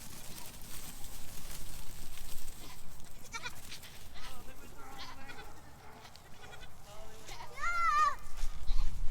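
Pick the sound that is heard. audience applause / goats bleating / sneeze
goats bleating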